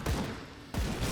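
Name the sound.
gunfire from enemies in the video game Grim Dawn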